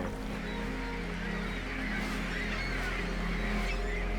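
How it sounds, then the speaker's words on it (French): Migrating birds rest on Lake Nasser, their honking calls faint and scattered against a steady rumble of a boat engine on the water. "Les oiseaux qui migrent depuis l'Europe suivent des trajets bien spécifiques."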